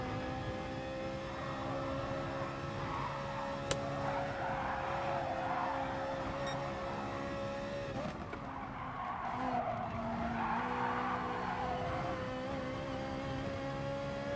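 Tires squealing and skidding on a race car in Gran Turismo Sport, a long steady screech over a droning engine while the rear loses grip, with a brief sharp click partway through.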